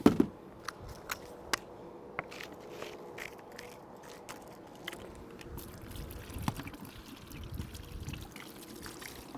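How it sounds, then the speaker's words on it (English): Water from a hose patters and trickles onto a rubber roof, a close, irregular splashing wash with a few sharper knocks and clicks at the start, fairly quiet and without speech. "take my hose here"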